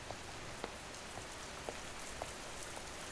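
Steady rain patters on a surface, a soft continuous hiss with occasional louder drops tapping through, no voices.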